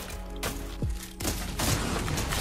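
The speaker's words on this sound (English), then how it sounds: "This shotgun feels so good." Purple shotgun blasts in Fortnite, a few sharp booming shots spaced across a couple of seconds over game background noise.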